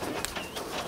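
Pigeons coo in a soft, brief burst close by during gun dog training around birds.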